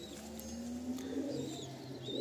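Pigeons in a pigeon loft in Behala coo in a steady, low, rolling murmur that continues throughout, with faint higher chirps from the surrounding birds.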